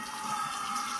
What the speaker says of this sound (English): I'm going to rinse it all out, inside and out.